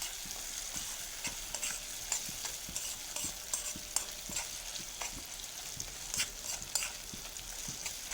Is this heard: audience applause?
no